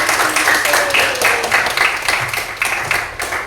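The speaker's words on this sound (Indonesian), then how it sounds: "Oke, tepuk tangan dulu untuk kita semua." An elementary school classroom of fifth-grade children claps together, a fast, uneven patter of many small hands, close and loud, with rhythmic bursts running throughout.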